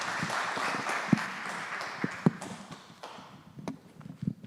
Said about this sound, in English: round of applause for the TED Talk section of the day